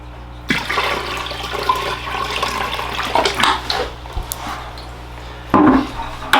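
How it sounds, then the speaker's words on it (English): Water pours and splashes into a bonsai pot tank with plexiglass walls, a steady rushing flow with bursts of louder gushing and occasional knocks, close and continuous. "So we're gonna go ahead and get ready to add some more water."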